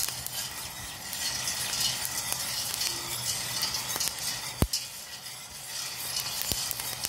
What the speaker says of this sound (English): I just keep stirring, because the key is to constantly stir it.